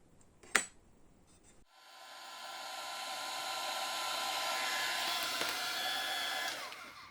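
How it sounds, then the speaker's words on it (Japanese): A hair dryer blows hot air onto decal film for a Tamiya 1/20 Tyrrell Honda 020 F1 model, a steady whooshing drone that starts after a sharp click and holds loud and constant until it winds down. "ドライヤーで熱を加えてカットするラインを明確化します。"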